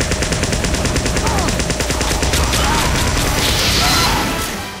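Blutsauger medic syringe gun firing in Team Fortress 2, a loud rapid stream of shots running without pause for several seconds amid dense game noise.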